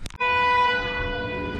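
A small tourist train's horn sounds loud and steady at Mount Fansipan, Sapa, a sustained harmonic toot held for over a second after a brief rumble at the start.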